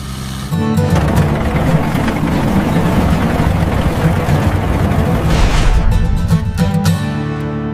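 A VST mini tractor's diesel engine runs steadily and loud, starting up abruptly with a dense rumbling drone that holds throughout before easing at the end.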